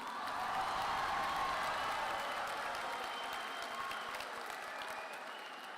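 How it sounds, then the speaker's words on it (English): Dense audience applause fills a graduation ceremony hall, a steady wash of many hands clapping at close range that holds loud throughout and eases slightly toward the end. "I'll take the cheap applause"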